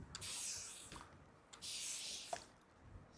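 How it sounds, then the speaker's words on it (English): A fine-mist spray bottle puffs onto dry twisted hair in two separate hissing bursts, each lasting close to a second, with a short quiet gap between them. "I like this spray bottle so much because it doesn't wet the hair so much."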